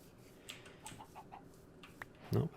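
A Minecraft chicken gives a few soft, scattered clucks over a faint background, ending on a slightly louder cluck.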